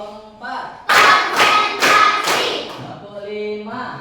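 A group claps four sharp beats together on a spoken count during an energizing warm-up, the crisp unison claps evenly spaced and close, with a voice speaking just before and after.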